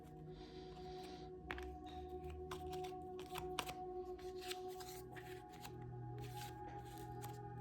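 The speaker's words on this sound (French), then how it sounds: "Je vais prendre 3 cartes avec celui-ci." Oracle cards being drawn from a deck, three pulled one after another with crisp flicks and papery slides over a quiet background hum, close and soft.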